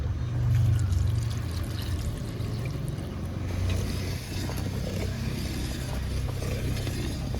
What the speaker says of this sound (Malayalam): ആവശ്യത്തിനുള്ള വെള്ളം ഒഴിച്ചു കൊടുക്കാം